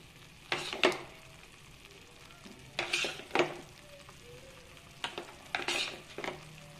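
Tomatoes cook in a pan for a Kannada tomato kayirasa, with quiet sizzling under several bursts of a spoon scraping and clinking against the pan as they are stirred.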